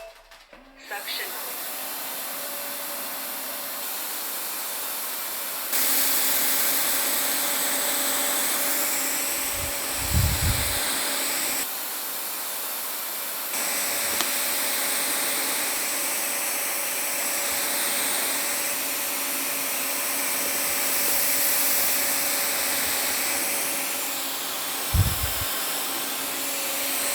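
A Narwal S10 Pro robot vacuum in regular suction mode runs with a steady whirring hiss while picking up spilled rice, sugar and bulgur wheat from a wooden floor gap, with a few brief low thumps and rattles of debris.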